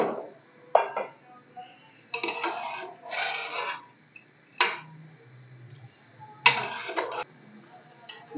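A spoon scrapes and clinks against a cooking pot in short, irregular bursts as mash dal and chicken are stirred, with quiet pauses between the strokes and no talking.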